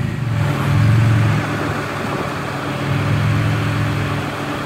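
Car engine holds steady, loud and near, while the front wheels spin, its droning note swelling, easing and rising again with no talk over it.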